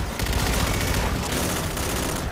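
Rapid, sustained gunfire from the video game Call of Duty: Infinite Warfare, loud and dense with shots running together in a continuous barrage, with no pauses.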